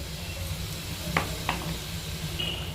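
Fried paneer pieces going into a gently bubbling curry gravy, with a soft steady sizzle and hiss, a couple of brief clinks of a utensil on the pan, close up and without speech.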